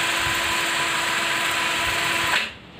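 A cordless drill, a Chinese DeWalt knockoff, whirs steadily at high speed, a loud continuous whine with a faint rattle underneath, then cuts off abruptly near the end.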